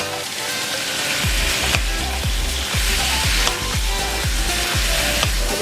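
Chuck roast sears in a hot Instant Pot on the sauté setting, a steady loud sizzle running throughout, with occasional soft stirring clicks and no voices.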